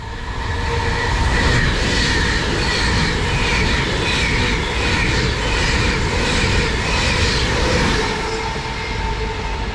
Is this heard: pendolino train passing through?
yes